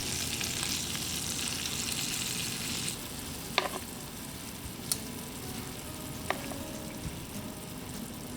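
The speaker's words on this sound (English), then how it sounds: "Now we can turn our meatballs over and let them brown another 5 to 7 minutes on the other side." Meatballs brown in a frying pan with a steady, close sizzle and hiss, interrupted by a few sharp clinks of a utensil against the pan.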